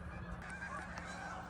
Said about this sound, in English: I can hear some geese. They're super loud.